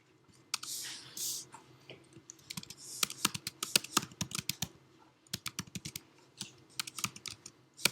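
Quick bursts of typing on a computer keyboard, close and fairly quiet, with irregular clusters of sharp key clicks separated by short pauses and no voices.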